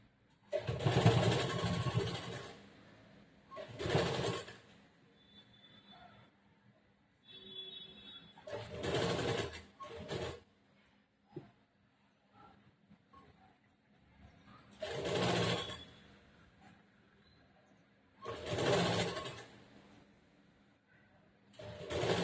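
A sewing machine stitches a princess cut blouse in bursts of fast whirring lasting one to two seconds, separated by quiet pauses with small handling clicks, close and loud.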